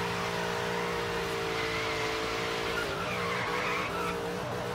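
A Lamborghini Jalpa in the racing game Forza Horizon 3 gives a steady, fairly subdued engine drone with tire squeal and skidding running through it, continuous and close throughout.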